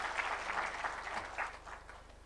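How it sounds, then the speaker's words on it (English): Soft, somewhat distant audience applause for a government panel at a constitution day event at a conference centre in Kenya, a brief muffled patter of hands that gradually tapers off. "Let's clap for them as we start this conversation."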